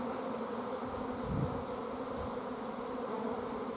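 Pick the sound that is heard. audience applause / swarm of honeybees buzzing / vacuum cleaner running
swarm of honeybees buzzing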